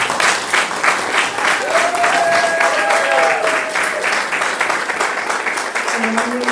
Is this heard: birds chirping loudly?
no